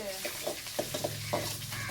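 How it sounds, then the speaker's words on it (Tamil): Soft scraping and stirring of rice in a pot, with light irregular clinks and a faint sizzle, fairly close and steady for a couple of seconds. "அதை நான் எப்படி கிண்டுவேன்னு பார்த்தீங்கன்னா"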